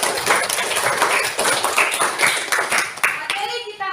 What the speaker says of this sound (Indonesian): Tepuk tangan untuk si Pia.